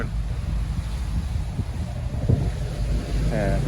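Strong sea waves wash and churn around a passenger ship off Tanjung Berikat beach near Koba, with steady low rushing water and wind noise throughout; a faint voice murmurs near the end.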